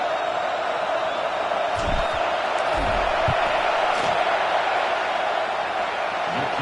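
Stadium crowd in a college football video game, Ohio State against Nebraska, roars steadily as a field goal is kicked, with a dense, sustained wash of cheering and a few thumps and shouts rising out of it.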